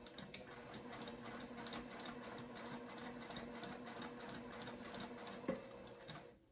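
A sewing machine runs steadily, stitching a zippered crossbody bag with a fast continuous whirr and needle rhythm, close and loud, with a sharp tap near the end before it slows.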